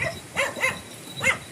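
Goats bleating on a farm, three short, fairly close calls spaced unevenly across a brief quiet moment, with no talk.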